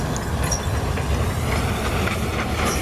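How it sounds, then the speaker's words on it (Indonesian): A train rumbles past continuously, a dense, steady roar of wheels and carriages at close range. "Ini kereta api."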